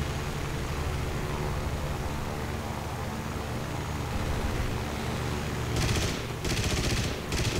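Machine gun fire in the War Thunder combat game, mostly a dense continuous rattle under engine and battle rumble, with a few sharper separate bursts near the end.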